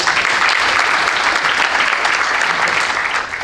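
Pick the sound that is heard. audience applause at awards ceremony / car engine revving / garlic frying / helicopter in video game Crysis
audience applause at awards ceremony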